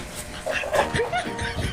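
A dog whimpers and whines in short, high-pitched bursts, fairly close, with faint background voices.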